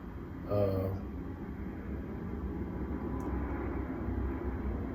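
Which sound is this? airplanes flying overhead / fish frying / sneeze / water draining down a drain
airplanes flying overhead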